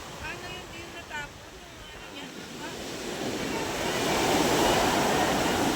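Sea waves surge and wash near a fishing-boat landing in Cavite, the rushing surf building louder toward the end, with someone speaking and faint bird-like chirps early on.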